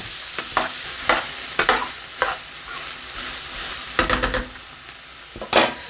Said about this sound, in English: We're going to stir this up to distribute some of the butter